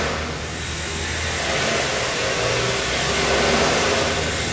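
A 2.5 liter Ford natural gas engine running on hydrogen gives a loud, steady, broadband roar that holds constant and swells slightly, heard close up with no voices.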